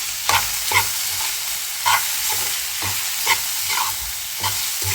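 Grated fresh coconut is stirred in a pan with a pinch of turmeric and salt, giving repeated soft scraping strokes over a low, steady sizzle, close by with no talking.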